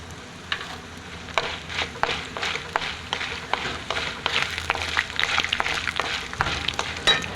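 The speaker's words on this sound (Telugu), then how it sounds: "కొద్దిగా జీలకర్ర కూడా వేస్తున్నాను." Cumin seeds fry in hot oil, sending up a soft, steady sizzle punctuated by quick crackling pops and occasional stirring scrapes, close and fairly quiet.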